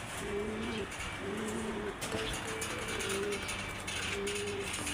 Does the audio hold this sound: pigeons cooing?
yes